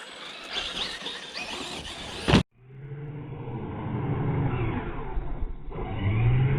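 A Traxxas Maxx RC truck races toward a tree jump, its electric motor whining and rumbling steadily and building in pitch after a sharp cut, loud and close.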